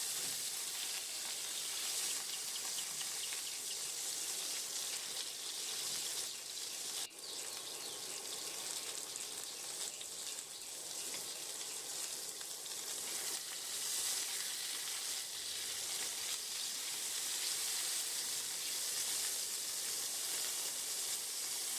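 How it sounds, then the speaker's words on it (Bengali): Pointed gourd and potato pieces fry together in hot oil with a dense, steady hissing sizzle, faint but continuous throughout, with an occasional light knock and no talking. "সামান্য নুন দিয়ে আমি পটলগুলো ভেজে নেব পটল আর আলু একসাথেই ভেজে নেবো"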